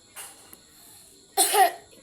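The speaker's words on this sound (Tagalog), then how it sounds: "Umuubo pa po ako." Two coughs from a sick person: a faint, brief one first, then a louder, harsher burst a second later, with a short quiet gap between.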